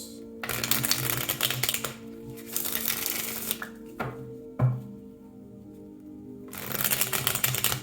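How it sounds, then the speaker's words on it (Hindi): Tarot cards being shuffled in repeated riffling bursts, close and clear, with short pauses between shuffles and a soft thunk partway through; no one speaks. "शफल कर लेते हैं कार्ड्स को ऑप्शन 1 के लिए"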